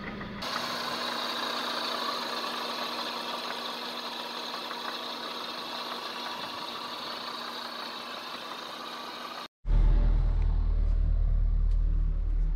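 A Fiat Marea engine with a failed rod bearing idles with a steady mechanical hum and fast, rhythmic ticking knock. It then cuts to a louder, deeper engine rumble for the last three seconds.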